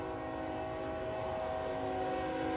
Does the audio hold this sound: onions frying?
no